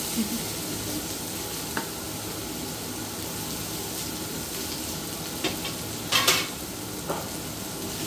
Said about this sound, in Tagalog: ilagay na natin ang ating pork giniling. Mikos-mikos, mikos-mikos.